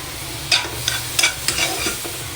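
Chopped garlic and onion sizzle in hot oil for a mixed vegetable dish, with a steady frying hiss broken by several sharp crackles and clinks as the pan is stirred.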